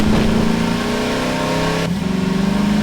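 A car engine in Garry's Mod holds a steady, loud droning hum as the vehicle drives off, with a slight shift in pitch partway through and no talk over it.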